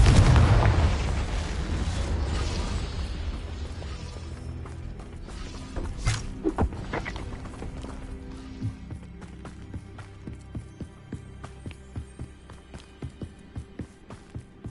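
Confringo spell blasts in Hogwarts Legacy: a heavy booming burst up front, then a cluster of sharp explosive impacts and a string of fainter, rhythmic thuds fading out behind them.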